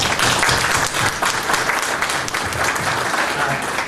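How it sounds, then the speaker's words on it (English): A seated audience at a noon club luncheon bursts into sustained applause, a dense, loud wash of many hands clapping at once that holds steady for several seconds. "let us all start with a round of applause and thank you"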